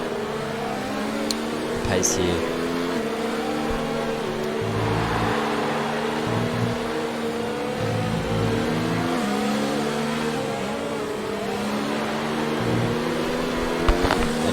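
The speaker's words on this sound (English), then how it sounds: "Looks beautiful as the safety car speeds away." A safety car in the F1 2019 racing game at Abu Dhabi accelerates away, its engine droning steadily with shifting pitch over continuous commentary.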